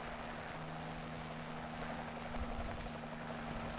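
An ARVN helicopter gives off a steady, low, droning rotor and engine hum, faint and continuous, with no voices heard.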